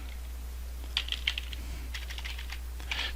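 Quick bursts of typing on a computer keyboard, soft close clicks in short irregular clusters over a quiet steady hum.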